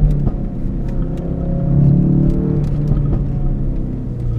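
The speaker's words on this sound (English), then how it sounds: "the car does pop and crackle" A 2018 Ford Focus RS LE driven on back roads, its engine rumbling steadily near and loud, with a swell of revs partway through and short sharp exhaust crackles and pops scattered across the run.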